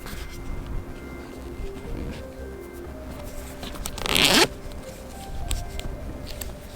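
A zipper rasps once in a quick, close pull, amid faint rustling and a low background hum.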